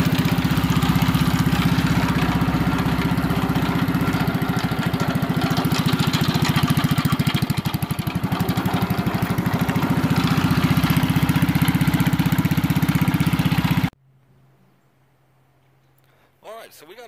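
A homemade generator's engine idles loud and steady in a dense, continuous drone for about fourteen seconds, then cuts off abruptly into near silence with a faint hum.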